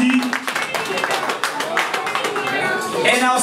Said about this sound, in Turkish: Bir alkışlar var mı ona?